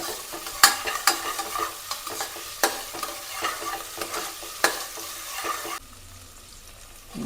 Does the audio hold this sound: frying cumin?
yes